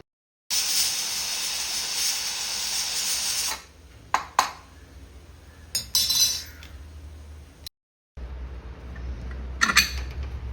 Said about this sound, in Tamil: குக்கரை மூடி 4 விசில் வந்ததும்